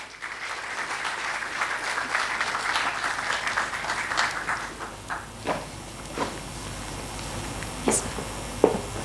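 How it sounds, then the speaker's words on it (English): An audience claps for a keynote speaker at an annual HR dialogue event. Dense applause fills the room for roughly five seconds, then thins into a few scattered claps and thuds. "With huge round of applause, may I request Alka Tiwari to deliver the keynote address"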